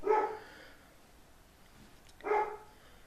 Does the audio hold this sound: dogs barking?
yes